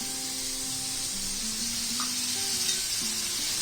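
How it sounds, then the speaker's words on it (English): Prawns sizzle and hiss in oil on a hot tawa pan, a steady, close frying crackle that runs the whole time without any talk. "the prawns are wonderfully sizzling"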